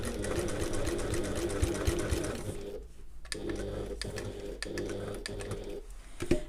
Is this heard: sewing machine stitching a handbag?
yes